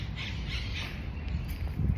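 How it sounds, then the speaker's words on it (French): Birds squawk and caw in a botanical garden with palm trees, harsh calls over a steady outdoor ambience, louder bursts near the end. "Je peux profiter de l'ambiance avec les cris d'oiseaux."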